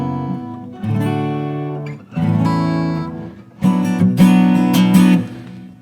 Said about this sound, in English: I really love using open chords